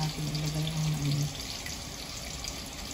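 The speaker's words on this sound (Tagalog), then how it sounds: "Kumukulo na po ang ating tubig na may luya at bawang." Water with ginger and garlic bubbles and churns steadily in a pot, a continuous close rushing hiss with a faint tonal hum fading early.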